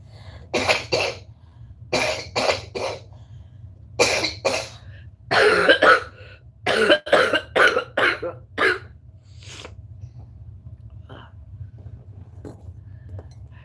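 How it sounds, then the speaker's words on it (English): A person coughs repeatedly in short, harsh bursts, close and loud, in clustered fits with brief pauses, then trails off into quieter breathing. "I have a cough."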